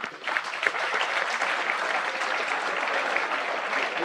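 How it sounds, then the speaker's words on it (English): An audience at a Doctor's Day medical education event claps for students, a dense, steady round of applause filling the hall without a break for about four seconds. "you deserve an applause."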